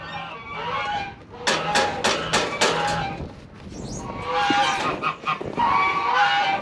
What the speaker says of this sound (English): Geese and ducks are loving this weather for some reason.